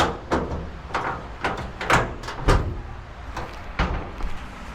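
Door of a 1962 Chevrolet C10 pickup being worked and unlatched during restoration: a series of sharp metallic clunks and knocks at irregular intervals, fairly close and moderately loud.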